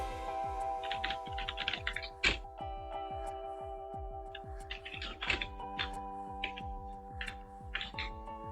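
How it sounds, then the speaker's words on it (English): Typing on a computer keyboard, a fast irregular run of close key clicks with brief pauses and an occasional heavier keystroke, over a steady electronic hum. "I'm going to type a select query"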